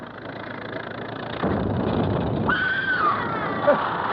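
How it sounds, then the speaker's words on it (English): A person screams in a radio drama, a rising then falling high cry over a steady background hiss and rumble, fairly clear and brief, with no talk. "Didn't you hear it? Somebody screamed."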